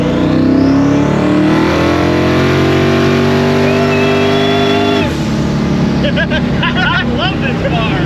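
A boosted street car pulls hard on a street run, its engine note climbing steadily and loudly for about five seconds before cutting off, leaving a rougher fading rumble with brief chirps.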